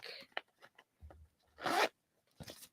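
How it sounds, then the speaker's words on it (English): A small zipper on the back pocket of a bag, pulled in several short quick rasps with brief pauses between them, close and clear in an otherwise quiet room. "A little zipper pocket on the back."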